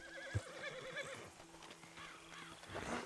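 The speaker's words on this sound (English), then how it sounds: "Load Anders onto the back of your horse there" A horse in the Western game Red Dead Redemption 2 gives a loud, wavering whinny, with clip-clop hoofbeats around it and a sharp knock near the start.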